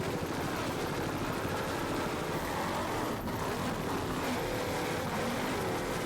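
Offshore racing powerboat with big Mercury outboard engines running hard on the throttle, a loud, continuous close-up roar of engines and spray that holds steady throughout.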